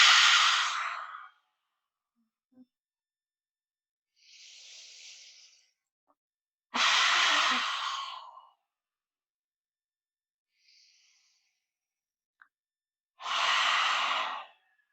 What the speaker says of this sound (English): We're going to take 3 lion breaths, and I really want you to really stick the tongue out, really open the mouth nice and wide.